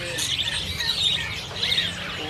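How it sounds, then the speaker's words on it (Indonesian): Golden weaver birds at a bird market kiosk give rapid, high-pitched chirps and twitters in a steady chattering stream, fairly close, over a low background murmur. "Ini ada manyar emas"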